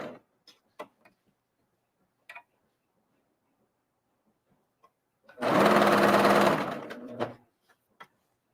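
A serger stitches jersey fabric in a loud two-second whirring burst that stops abruptly, set between quiet stretches of faint ticks and small handling clicks.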